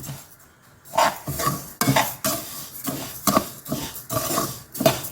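Broken urad dal dry-roasting in a pan is stirred with a utensil, giving repeated rhythmic scraping and rattling strokes, close and fairly loud, with no talking.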